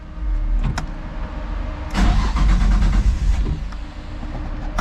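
A car engine cranks with a rough, churning mechanical sound, surging louder midway and briefly catching before falling back to a lower rumble.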